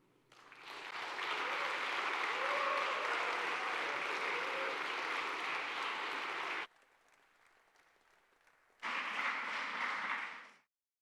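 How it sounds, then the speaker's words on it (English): An audience at a startup venture showcase applauds a presenting team, loud and dense for several seconds. The clapping cuts to near silence, then returns briefly before ending. "please give them another round of applause"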